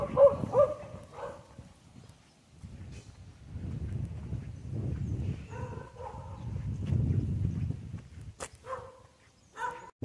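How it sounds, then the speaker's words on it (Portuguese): A dog barks a few times on a city street near a bus station, the sharp barks standing out at the start over a steady rumble of traffic and street noise. "Olha o cachorro."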